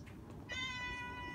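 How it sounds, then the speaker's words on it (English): A cat in a backyard gives a single drawn-out meow that starts about halfway through, faint and at a distance over quiet outdoor background noise. "That's a cat."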